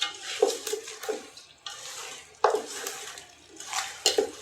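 Chicken with ginger paste masala for Hyderabadi biryani is stirred in a pan, with wet, squelching scrapes and soft clinks of a spoon repeating in an uneven rhythm, close up.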